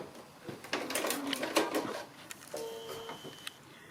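A sewing machine stitches a quilt block along a diagonal line, a quiet mechanical whir in short runs with clicks and small knocks between them.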